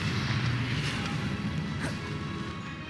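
Confringo spell impact in Hogwarts Legacy, a fiery smash and crash with crackling debris and whooshing bursts that slowly fade, loud and close, with no talking.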